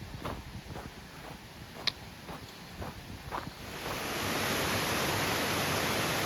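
A steady rush of falling water near a bridge on the Pennine Way in the West Pennine Moors grows louder and closer, with a few soft footsteps before it takes over as a constant broadband roar.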